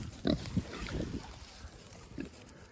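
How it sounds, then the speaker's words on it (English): A farm pig grunts close by in several short, low snorts with a rough texture, over faint wind and outdoor background noise in a pasture with goats and an alpaca. "I'm loving on Pig Trudy while all of the goats and the alpaca"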